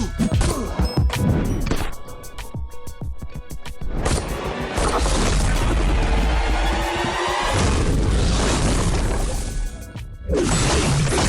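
Baron Zemo's Special 2 attack in Marvel Contest of Champions: a loud, dense run of smashing impacts, whooshes and crashes, with rapid hits early, then a sustained roaring blast and a final heavy strike.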